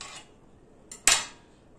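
A knife cutting through a fried vanilla sponge cake gives a couple of brief, sharp metallic clicks against the plate, the second louder, with near silence between them.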